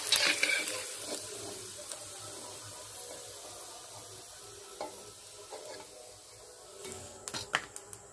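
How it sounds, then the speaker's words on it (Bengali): Wheat flour papad frying in hot oil, a bright burst of sizzling at first that settles into a softer crackle, with intermittent clinks and scrapes of a utensil toward the end. "এবার পাঁপড়গুলোকে ভেজে নেব।"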